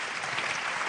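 A brief, steady wash of clapping rises from an audience at a national awards ceremony, even and moderately distant, with no voices heard.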